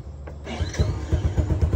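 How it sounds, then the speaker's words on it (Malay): A restored custom motorcycle's engine catches after a brief electric cranking whine, then settles into a close, steady rhythmic idle putter. "Motor pun alhamdulillah hidup."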